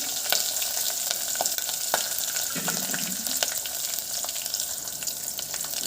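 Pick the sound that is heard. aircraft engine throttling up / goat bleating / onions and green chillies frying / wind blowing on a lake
onions and green chillies frying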